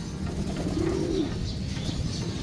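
Pigeons coo softly in a loft, a low rolling call rising briefly over a steady background hum with faint chirps.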